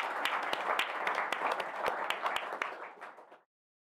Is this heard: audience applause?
yes